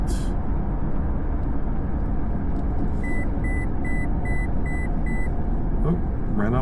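A series of six evenly spaced electronic beeps rings out over a steady, loud motorcycle engine rumble on Ohio Route 213, with a faint voice in the background.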